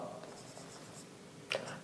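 Pen or chalk writing during a maths lesson, faint scratchy strokes in a quiet room with a brief tap near the end.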